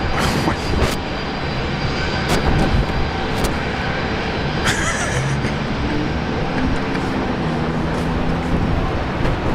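Airliner at Brisbane Airport, a loud continuous engine roar filling the scene with broadband rumble, a faint tonal whine rising near the end.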